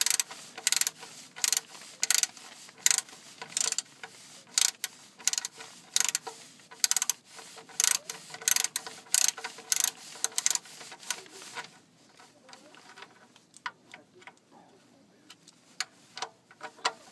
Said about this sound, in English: So here we are, tightening the bolt.